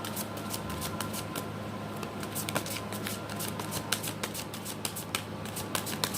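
Tarot and oracle cards are shuffled and pulled in a steady run of crisp riffling flicks and soft slaps, close and fairly quiet over a low background hum, with no voices.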